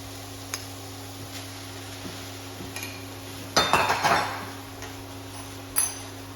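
Fried rice being stirred with vegetables and bacon in a pan at home, giving a short burst of metal utensil scrapes and clinks against the pan midway, with a few lighter taps before and after over a steady background hum.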